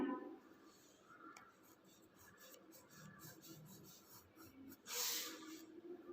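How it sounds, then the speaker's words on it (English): Pencil marking a dotted line on paper, faint quick scratchy taps in a loose series, close but quiet, with a brief louder rustle toward the end and no talking. "Draw a dotted line."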